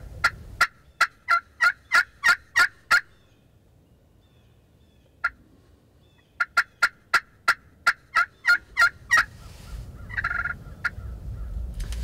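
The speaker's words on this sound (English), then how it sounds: "Kevin, there's a turkey in the road down there." A wild turkey gobbles in Georgia in a long run of sharp, evenly spaced calls, pauses, gives one call, then another rapid series, with some rustling near the end.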